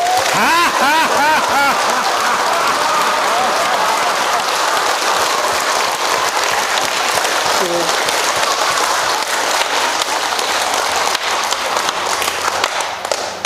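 A large crowd at a laughter-yoga health lecture during an integrative medicine expo in Jangheung claps loudly and continuously, with laughter and raised voices rising over the applause.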